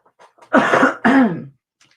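Two harsh, close coughs in quick succession, loud and alone, with faint breathy noises before and after.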